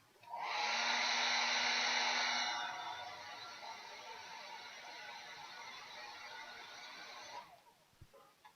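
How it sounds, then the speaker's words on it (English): A hair dryer blows on painted Nighthaunt miniatures, loud and steady for a couple of seconds, then switched to a lower, quieter setting and running on before cutting off near the end. "I don't know if you can hear the hairdryer going or not"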